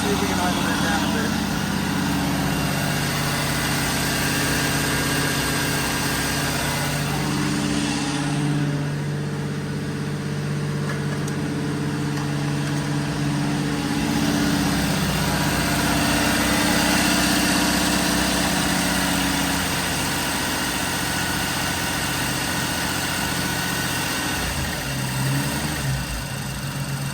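Engine of a 1985 Jeep CJ7 with a Holley Sniper EFI system idling steadily, a loud continuous low rumble with slight shifts in pitch as the idle is adjusted, running alone throughout.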